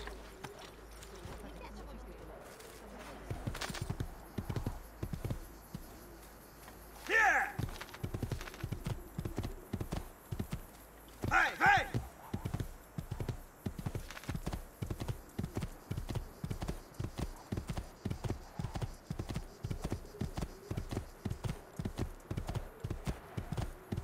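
Horse hooves in the video game Assassin's Creed II clip-clop in a steady, rhythmic trot on a hard surface, close and continuous, with a couple of brief louder bursts and occasional speech.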